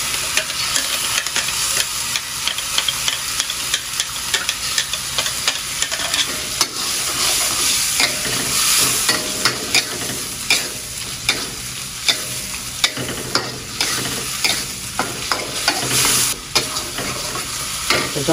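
Kuey teow noodles stir-fry in a pan, with a loud, continuous sizzle broken by repeated scraping stirs of a utensil, close up and without talk.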